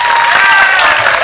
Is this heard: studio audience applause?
yes